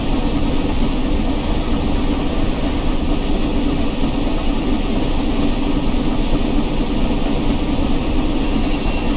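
Flying Scotsman steam locomotive running, a loud steady rumble and roar close by that continues unbroken throughout with no talking.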